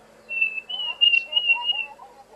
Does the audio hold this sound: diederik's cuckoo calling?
yes